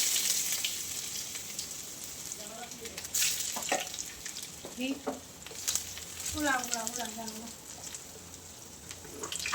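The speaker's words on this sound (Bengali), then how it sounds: "আমার তেলটা প্রচুর গরম হয়ে গেছে। যাই হোক, গরম হলে ভালোই। আমি প্রথমে দিয়ে দিচ্ছি আদা কুচি।" Chopped ginger dropped into very hot oil in a home kitchen, giving a loud, steady sizzle and crackle close by that carries on throughout, with someone talking over it.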